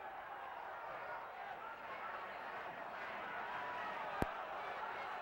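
Boxing crowd at a 1934 heavyweight title fight in Long Island City, New York, a steady broad roar of many voices rising slightly toward the end, with one sharp click partway through.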